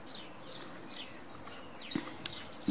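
Tits and a blackbird chirp and call in a garden where birds peck in compost soil, with quick, bright, repeated notes near and far over soft background noise.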